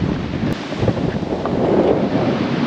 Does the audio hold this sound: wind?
yes